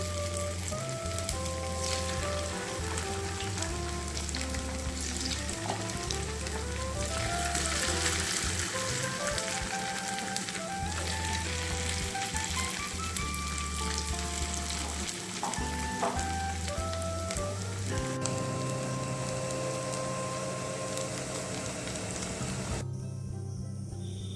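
Paneer pakoras fry steadily in hot oil, a loud, continuous crackling sizzle under background music that stops near the end.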